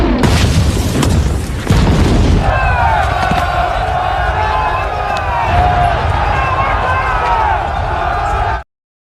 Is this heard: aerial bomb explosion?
yes